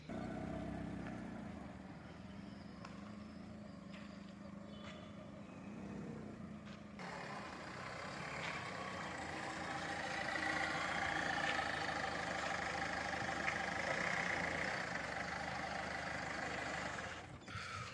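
A used 2007 Ford Fiesta diesel car runs with a steady, fairly faint engine drone as it is driven out, and the rumble swells slightly partway through before settling.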